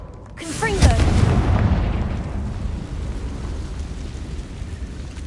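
A Confringo blasting spell in Hogwarts Legacy, one loud booming explosion with a rising whoosh leading in, then a long rumbling decay that fades into crackling debris.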